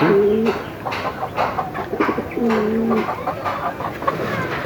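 Homing pigeons coo in soft, throaty phrases close by, two distinct bursts over steady background noise.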